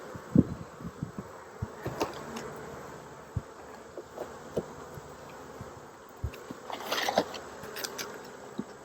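Honeybees hum steadily around a hive in Tennessee in October, a soft continuous buzz broken by scattered close passes and faint clicks and bumps, with no voices.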